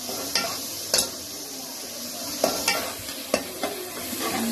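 Chopped onion with ginger and green chili frying in a pan for white rice, a steady bright sizzle broken by several sharp scrapes and clinks of a spoon stirring against the pan.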